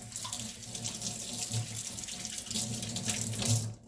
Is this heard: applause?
no